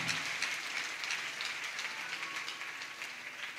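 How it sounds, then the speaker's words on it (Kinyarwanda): A church congregation claps and applauds together, with a steady, dense patter of many hands sustained throughout at moderate loudness and no voices. "Komera Imana amashyi menshi cyane."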